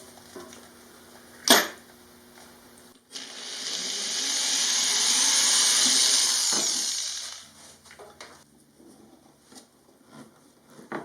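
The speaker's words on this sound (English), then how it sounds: "And now I'll be adding a few screws." A power drill drives screws into a DIY toilet seat separator, giving one sustained high whirring run of about four seconds. A sharp knock comes before it and faint handling clatter follows, all close with no talking.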